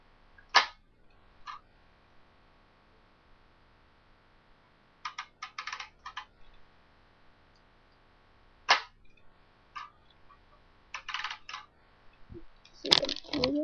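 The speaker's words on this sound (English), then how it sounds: "Press the trigger." A handmade Lego toy gun's trigger is pressed several times, producing sharp plastic clicks and short rattling snaps in separated bursts against quiet, with a louder clatter at the end.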